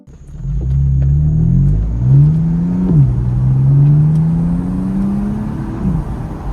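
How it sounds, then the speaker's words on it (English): A BMW M4 with its stock exhaust revs close by, the engine's low rumble rising and falling through a few sustained pulls before settling at a steady drone. "That stock exhaust gotta go."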